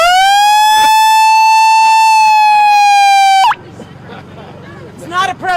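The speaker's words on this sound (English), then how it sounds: "It's not a protest until the siren goes off" A loud, steady electronic siren wails continuously at a union contract protest rally, then cuts off abruptly, giving way to crowd noise and cheering.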